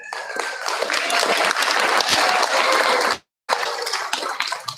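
An audience at a school district board meeting applauds the district's teachers of the year, a dense, steady round of clapping that fills the room, briefly breaking off before resuming.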